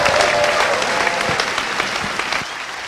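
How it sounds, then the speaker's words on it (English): An audience breaks into loud, dense clapping at the close of a performance night, holding steady before dropping off sharply near the end. "Big round of applause for everybody."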